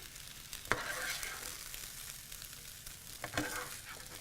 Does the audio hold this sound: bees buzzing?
no